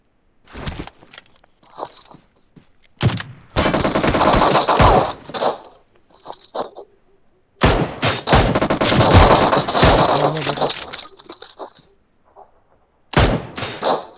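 PUBG Mobile gunfire: long, loud bursts of automatic weapon fire close by, broken by shorter shots and silent pauses across the stretch.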